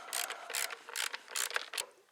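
Small screws on the distributor cap of a Porsche 944 S2 are tightened with a ratcheting tool, giving about six quick clicking bursts in a close, uneven rhythm with no voices.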